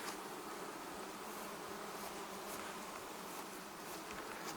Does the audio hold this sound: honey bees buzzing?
yes